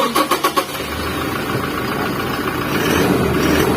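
A Toyota Revo pickup started with a push-start button: a quick rhythmic cranking of a few pulses, then the engine catches and settles into a loud, steady idle close by.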